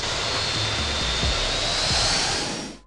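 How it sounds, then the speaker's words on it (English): A United 757 airliner landing at San Diego in the Infinite Flight video game gives a steady, loud jet engine roar with a faint high whine throughout, then fades slightly at the end. "this United 757 on approach for San Diego"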